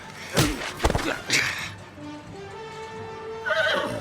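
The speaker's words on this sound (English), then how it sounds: "Easy, horse." A horse whinnies nearby amid a few sharp hoof thuds in a radio drama, its shrill neigh rising again near the end.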